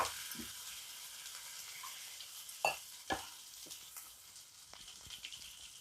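Soft scraping and stirring of spice paste in a pot of okra sambar with a faint sizzle, a few sharp clinks of the spoon against the rim, no talking.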